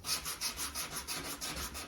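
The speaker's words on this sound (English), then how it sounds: "Always sand with your brush strokes when you're gonna go across the complete surface of your piece of wood" Sandpaper rubs back and forth over a painted wooden surface in steady, even strokes, about eight rhythmic scrapes, close and soft.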